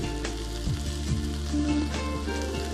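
Coriander frying in a pan for paneer puffs, giving a constant close sizzle and crackle with a few light stirring scrapes and no talking.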